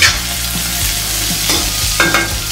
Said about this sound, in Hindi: इसे फ्राई करते हुए भूनना है। देखिए गोभी को मैंने हल्का फ्राई कर लिया है।